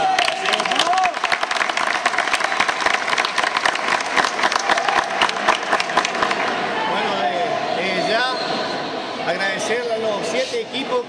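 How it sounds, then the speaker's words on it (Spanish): Applause at a youth futsal final's closing ceremony, strong sustained clapping from a crowd that thins toward the end, with some voices mixed in. "así que un fuerte aplauso a"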